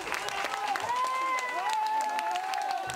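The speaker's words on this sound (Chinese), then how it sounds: "香港《苹果日报》员工为最后一份报纸出刊欢呼" Apple Daily newspaper staff in Hong Kong cheer and applaud the final edition, a dense, continuous crowd of clapping and shouting voices throughout.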